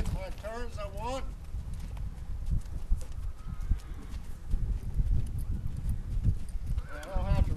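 A horse walks close by with steady, rhythmic hoof clip-clops that carry on throughout, while someone talks over them at the start and end.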